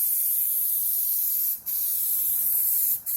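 Steady hissing spray from a can of silver spray paint in a warehouse, running continuously with two brief pauses where the nozzle is released.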